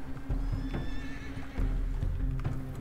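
A horse in the Red Dead Redemption 2 video game whinnies loudly up close while its hooves clip-clop in a steady rhythm, with no talking.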